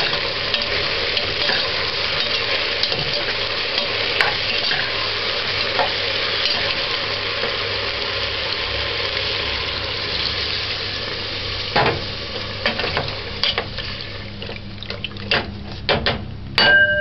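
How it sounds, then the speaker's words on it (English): Cow skin and black spot broad beans fry in a pot for a Jamaican dish, giving a steady, close sizzle throughout, with scraping stirs and clinks growing more frequent toward the end. "it's just frying away."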